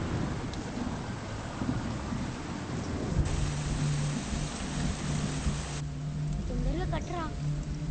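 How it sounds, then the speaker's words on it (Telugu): Heavy rain and rolling thunder fill a scene from the Telugu film Aakasam, a steady roar of downpour with low rumbles beneath, joined by a low sustained tone and a few brief bird-like chirps near the end. "వర్షం ఇప్పుడప్పుడే తగ్గేలా లేదు."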